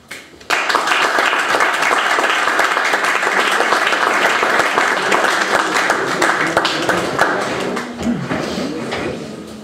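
An audience at a book presentation breaks into sustained applause, many hands clapping close and loud for several seconds before gradually thinning out, with a few voices underneath near the end.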